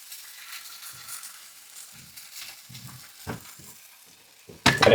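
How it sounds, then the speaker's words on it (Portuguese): Beaten egg poured over carrots and ginger in a tamagoyaki pan, giving a soft steady sizzle with scattered stirring scrapes and a louder hiss building sharply at the end as the egg hits the hot pan. "E agora o nosso ovo por cima."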